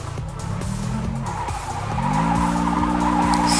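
A custom Civic in the Car Parking video game revs and drifts, its engine droning while the tires squeal in a long continuous skid that rises in pitch and grows louder toward the end.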